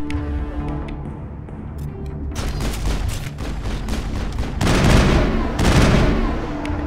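Assault rifle gunfire in the video game Mass Effect, loud rapid bursts of shots that start after a quieter stretch and build into dense, heavier volleys toward the end.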